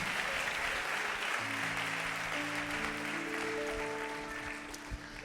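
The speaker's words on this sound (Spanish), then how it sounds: "Vamos a darle un aplauso a Dios." A church congregation applauds during a pastor's sermon, giving a steady, dense wash of clapping that holds throughout, with sustained organ or keyboard tones entering underneath partway through and the clapping thinning slightly at the end.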